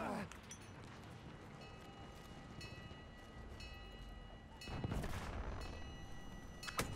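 Gunfire in the video game Battlefield 1, scattered shots and bursts over a busy battlefield din, fairly faint with a louder blast near the end.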